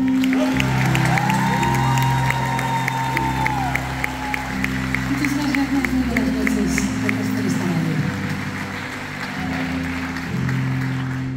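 Loud crowd applause and cheering for a singer at a concert at The Magnolia, with steady clapping, whoops and a low instrumental backing underneath, and a voice speaking over it.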